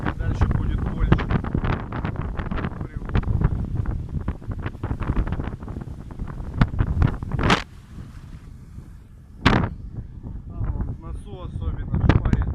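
Wind and rough sea aboard a loaded cargo ship on the Sea of Azov at the start of a storm, gusting and buffeting with water rushing, under intermittent talk by a man.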